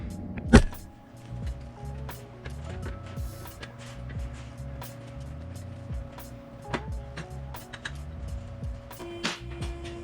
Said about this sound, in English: Let's get the car jacked up.